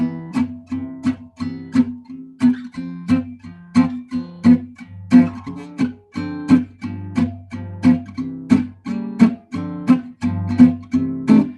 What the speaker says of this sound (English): So backbeat on the guitar might sound like this.